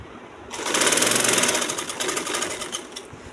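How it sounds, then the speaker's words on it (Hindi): A sewing machine runs a seam along a dress panel at a half-inch margin, starting abruptly and giving a loud, close, continuous rapid whirr for about three seconds before easing slightly. "इस तरह से हमने ये आधे इंच की मार्जिन पर ये हमने सिलाई लगानी है।"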